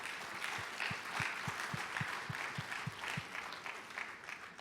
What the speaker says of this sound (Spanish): Denle un aplauso al Señor si usted quiere.